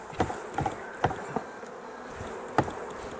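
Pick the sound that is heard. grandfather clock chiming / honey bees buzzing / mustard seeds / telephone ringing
honey bees buzzing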